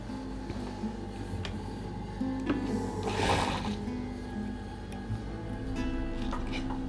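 A sewing machine runs steadily while stitching a women's suit with an English collar, giving a continuous mid-level whir with faint ticking through the mechanism and a brief louder swell midway.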